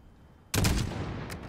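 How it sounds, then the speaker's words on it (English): A single sharp sniper rifle shot fires in a Call of Duty Modern Warfare campaign, a sudden loud crack after near silence, followed by a rolling echo that fades slowly. "Fire when you're ready."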